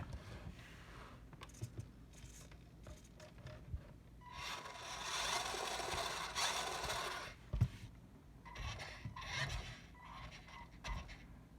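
A custom 1/12 scale RC vehicle powered up, its small electric motor whirring in a steady buzzing run for a few seconds amid faint handling clicks and shuffles, fairly quiet and close.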